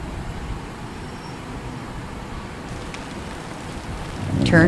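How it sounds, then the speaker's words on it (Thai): Steady rain falls in the truck-driving video game Truck Simulator 2018, a continuous soft hiss of drops with a louder swell right at the end. "วันนี้ฝนตกปล่อยๆนะครับ"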